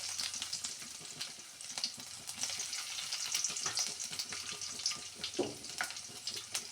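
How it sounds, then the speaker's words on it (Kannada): Crushed garlic frying in a hot pan for a fenugreek-leaf pulao, giving a steady, close sizzle and crackle with a few small clinks of stirring and no voices. "ಸ್ವಲ್ಪ ಬೆಳ್ಳುಳ್ಳಿಯನ್ನು ಕ್ರಷ್ ಮಾಡಿ ಕೂಡ ಹಾಕ್ತಾ ಇದ್ದೇನೆ."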